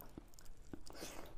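Soft, close chewing of rice with spicy mutton curry and potatoes, a few faint bites and moist mouth sounds at a quiet level.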